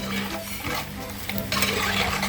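Ground roasted coconut paste is stirred into beef curry in a hot pan, giving a close, steady sizzle with scraping stirs throughout and no voices.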